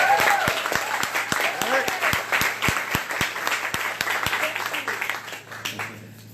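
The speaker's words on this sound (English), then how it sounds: "so please give him a round of applause." Audience applause after a call to honor a colleague at an elections event, dense steady clapping from a crowd that holds for several seconds before fading out toward the end.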